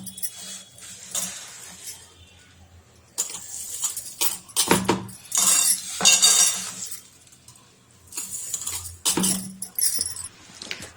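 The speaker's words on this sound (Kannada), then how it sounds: "ಕಷಾಯ ಮಾಡಲಿಕ್ಕೆ ಫ್ರೈ ಮಾಡಿರೋದು ಈಗ ಒಂದು ಮಿಕ್ಸಿ ಜಾರ್ಗೆ ಹಾಕೊಳ್ಳೋಣ." Roasted spices for homemade kashayam poured into a mixer jar, bursts of clinking, rattling grains and pieces striking the jar in irregular clusters with quiet pauses between, close and fairly loud, no talk.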